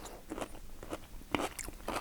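Crunchy bites into a lacto-fermented pickled cucumber, with several sharp, close crisp crunches spaced through a quiet chewing sequence.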